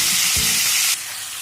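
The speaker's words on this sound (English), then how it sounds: "When you add in the chicken, it should sizzle like this." Loud, steady sizzling of chicken hitting a hot kadai, a bright hiss that drops slightly in level partway through, with no voices.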